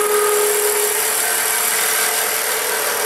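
Skew chisel taking a peeling cut on a spinning wood lathe to shape a tenon, a loud continuous whirring scrape that holds steady throughout with no pauses.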